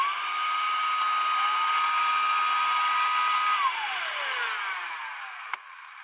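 A Dyson DC14 upright vacuum cleaner with freshly changed filters runs loud and steady with a high motor whine, then its pitch sweeps down partway through as the motor note shifts, with a brief click near the end.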